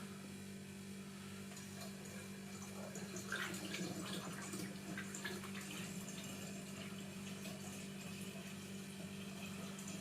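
Apple juice pours into a cider fermenter with a soft, continuous watery flow, heard close and faint over a steady low hum, with no speech.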